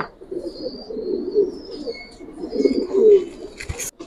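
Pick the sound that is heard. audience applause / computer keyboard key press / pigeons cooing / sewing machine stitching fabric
pigeons cooing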